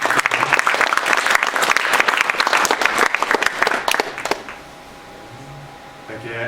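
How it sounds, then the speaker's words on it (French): Loud, sustained clapping from a conference audience for about four seconds, then it stops abruptly, leaving a quiet room with a faint hum. "Fait une grosse main d'applaudissements à Alex et Fred"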